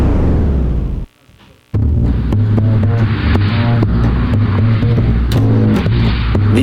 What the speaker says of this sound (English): Cars and trucks drive past the front entrance on this very active street